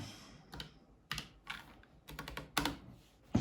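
Typing on an Asus ROG Strix computer keyboard, with a run of distinct close, crisp key clicks in irregular bursts, some louder strokes standing out, and no talking.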